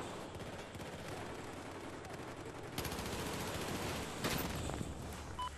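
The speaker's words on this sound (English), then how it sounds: "Even if he starts shooting me first, the rate of this fire, this gun fires, it is just amazing." P90 submachine gun firing in Battlefield 4 multiplayer, dense rapid bursts of automatic gunfire layered with distant shots and explosions, the rattle steady and intensifying partway through.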